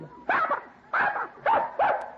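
Newborn puppies in an old-time radio detective drama give four short, high whimpering yips, evenly spaced and close, with no talk over them.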